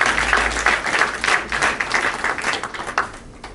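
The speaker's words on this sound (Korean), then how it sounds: "박수 많이 해주시기 바랍니다" Audience applause in a high school ceremony hall as a second-year student steps forward to receive a scholarship certificate; dense, steady clapping from a crowd, loud and continuous throughout.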